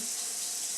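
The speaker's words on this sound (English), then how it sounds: "run a little bit of water to keep the pipes cool." Tap water running into a kitchen sink while potatoes are drained for stuffed gnocchi, a steady close hiss that swells into a louder splash at the very end.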